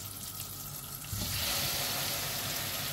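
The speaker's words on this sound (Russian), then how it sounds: "Сейчас растоплю сливочное масло, закину помидоры." Butter melts in a frying pan as tomatoes are tossed in, a steady close sizzle that grows louder and denser about a second in, with no voices.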